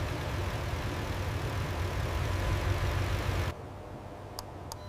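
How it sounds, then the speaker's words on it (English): A Ferrari car engine runs inside the factory, a dense low rumble holding steady for a few seconds before cutting off abruptly, leaving faint quiet ticks. "Engine running smoothly, all parameters normal."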